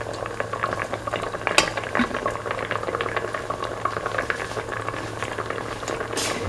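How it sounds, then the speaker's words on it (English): Eggs cook in a simmering mint and coconut milk mixture, giving a close, continuous bubbling with soft pops and a faint low hum underneath. "let the eggs cook."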